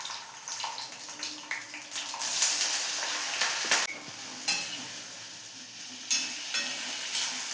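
Potato curry simmering and bubbling in a pan on a home stove, a steady soft sizzle with intermittent stirring scrapes and clinks, close and alone with no voices.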